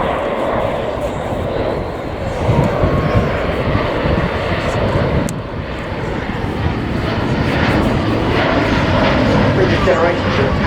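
An Airbus A400M military transport plane flies slowly at an air show during an air-to-air refuelling demonstration, its turboprop engines giving a loud, steady roar that swells slightly midway and holds strong throughout.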